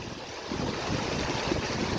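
Outdoors, wind buffets the microphone over rushing water, a steady broadband roar that swells slightly partway through, with no voices.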